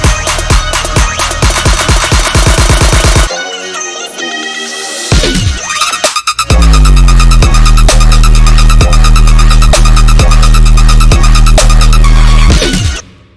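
An electronic bass track plays loud and close: pulsing synth chords, a brief stuttering breakdown, then a heavy sub-bass drop with rhythmic wobbling bass until it cuts out.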